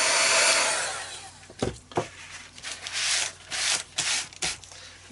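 A handheld dryer blows over a painted collage art tag, a close, steady whooshing air hiss that rises and dips as it is moved around, broken by brief rubbing and handling noises.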